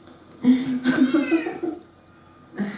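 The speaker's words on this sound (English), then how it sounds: "Yes, he's a really affectionate kitty." An affectionate house cat meows in a drawn-out, wavering call, then adds a shorter meow after a brief pause, close and clear against a quiet room.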